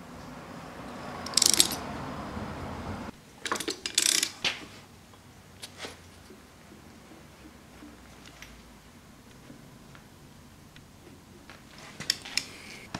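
Ratchet clicks and metallic clanks while turning the crankshaft harmonic balancer of a Subaru EJ25 SOHC engine during timing belt work, a few sharp bursts then sparse faint clicks in a quiet garage.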